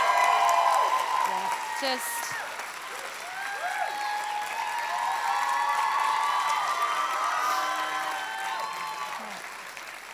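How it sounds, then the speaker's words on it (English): A glee show audience applauds and cheers, the clapping fairly steady across the whole stretch with voices calling out over it and a brief spoken word near the start. "Can I get one more round of applause for them?"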